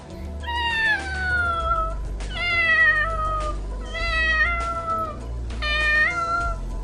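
A voice imitates a cat, giving four drawn-out meows in a row with short pauses between, close and clear over a low background hum.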